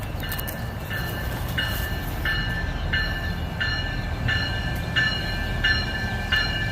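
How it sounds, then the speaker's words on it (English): A passenger train pulls into a station, its steady rumble running throughout while a periodic high-pitched chime or signal tone repeats at regular intervals, loud and close. "Hear that train a-coming."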